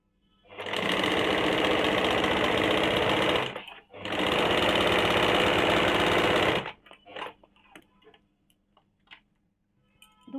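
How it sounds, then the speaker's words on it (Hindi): A sewing machine stitches a kurti with a steady, fast, close mechanical whir in two long runs separated by a brief pause, then stops, leaving scattered faint clicks and handling noises. "अब मैं इसका सिलाई करके बताती हूँ।"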